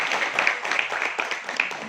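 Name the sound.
audience applauding the dean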